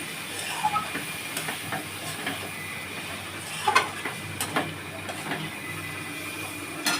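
Chicken stirred with chili powder and salt in a pan, a steady frying hiss punctuated by scattered scraping and clinking of the spatula, close and without talking.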